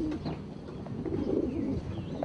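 Pigeons coo softly and steadily in an enclosed space, low throaty calls overlapping with faint rustling and a few chirps.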